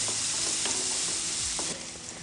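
Onion frying in a pan gives a close, steady sizzling hiss, with a few soft stirring scrapes running through it.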